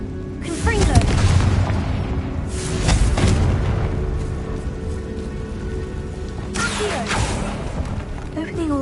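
A Confringo blasting spell explodes in the Hogwarts Legacy game, with booming bursts near one second and three seconds, then another blast late in the clip over a steady game background.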